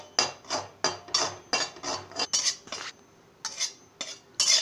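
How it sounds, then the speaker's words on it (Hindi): A metal spoon scrapes and clinks against a pan in rapid, rhythmic bursts as gram flour is stirred and roasted over low heat, close and fairly loud with a brief pause midway. "मैं धीमे आंच में पहले बेसन को हमें भून लेना है।"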